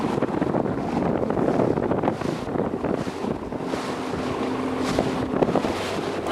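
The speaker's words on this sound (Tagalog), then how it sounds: "At dahil na nagsimula ng ulan, tapos malakas pa yung alon, lahat na ng pasahero basa na." A passenger boat from Bunggao pushes through rain and strong waves: a steady, loud roar of wind and water rushing against the hull, with a low engine drone underneath, continuous and without talk.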